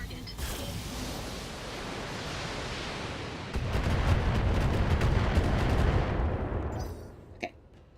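Heavy mech weapons open fire on a target in the BattleTech video game, a dense roar of cannon and gunfire that swells midway and thins into a few sharp closing reports.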